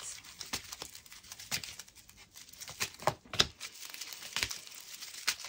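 Tarot cards being shuffled and drawn for a monthly Libra love reading, a run of soft crinkling flicks and quick papery snaps at an even, close-up pace with no voice over them.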